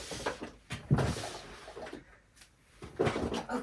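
A thread drawer in a home craft room sliding open, with a couple of wooden knocks and rubbing scrapes close by, followed by quiet shuffling.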